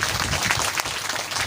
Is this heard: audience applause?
yes